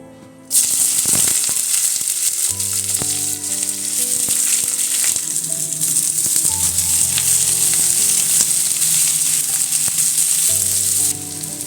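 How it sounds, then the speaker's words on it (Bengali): Onion, garlic and ginger drop into hot oil and fry, a loud sudden sizzle that holds as a steady hiss with faint stirring, over a background of music, ending abruptly. "এবার তেলের মধ্যে দিয়ে ভেজে নেব"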